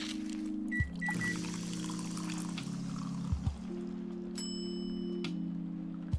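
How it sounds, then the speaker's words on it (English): Milk being poured for latte art in a café video game, a thin steady pour running under a sustained tonal music bed, with a few soft chimes and a short bright beep near the end. "So pour milk."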